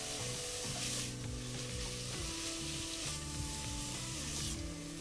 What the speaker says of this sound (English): So you want to saute this until nice and fragrant.